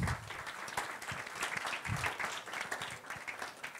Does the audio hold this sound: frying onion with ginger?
no